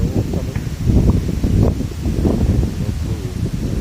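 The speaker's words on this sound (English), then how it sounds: "It's very windy out here." Strong, gusty wind buffets a tent during an early morning windstorm, a loud continuous low roar that surges and flutters without a break.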